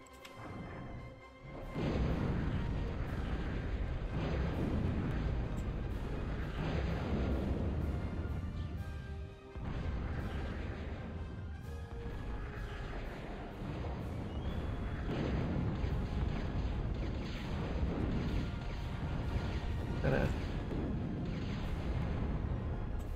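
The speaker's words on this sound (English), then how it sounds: "there's that bombing run I expected" Bombing-run explosions in the real-time strategy game Total Annihilation, a dense, continuous barrage of booms and crashes rolling on for over twenty seconds at steady loudness, with brief dips between waves.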